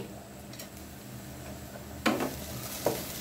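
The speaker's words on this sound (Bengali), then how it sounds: "এখন এগুলোকে নেড়ে পেঁয়াজের সাথে মিশিয়ে ভেজে নেব" Whole spices such as cloves, nutmeg, white peppercorns and star anise fry with onions in a pot for yakhni biryani, a soft sizzle under two clear stirring clatters of a spoon against the pot.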